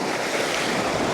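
Ocean surf washes ashore at sunset, a steady broadband rush of breaking waves with wind buffeting the microphone, close and continuous and with no voices.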